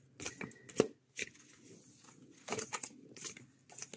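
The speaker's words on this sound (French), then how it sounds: "J'ai toujours beaucoup de mal à les mélanger" Large animal wisdom tarot cards being shuffled by hand, quiet papery riffles and slaps in short separate bursts with pauses between them, close and soft.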